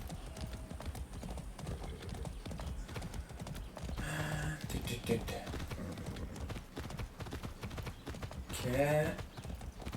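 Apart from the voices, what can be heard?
horse hooves clip-clopping in the video game Far Cry 6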